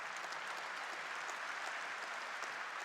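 Steady, dense applause fills an arena after a long lobbing rally at a table tennis quarterfinal of the 2015 ITTF World Tour Polish Open, with no voices.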